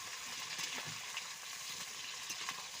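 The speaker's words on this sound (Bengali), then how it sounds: "তেল গরম গরম হয়ে গেছে, পেঁয়াজ দিচ্ছি।" Onions dropped into hot oil give a dense, steady sizzle and crackle throughout, close and fairly loud, with no talking, while chicken curry is being cooked.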